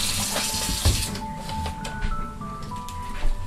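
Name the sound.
rinsing meat under running tap water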